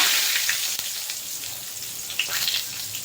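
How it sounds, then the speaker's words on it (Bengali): Whole cumin seeds and two bay leaves sizzling in hot oil left from frying katla fish, a bright, steady crackle with small pops, close and alone. "গোটা জিরে ফোড়ন দিয়ে দেবো এবার দিয়ে দেবো দুটো তেজপাতা"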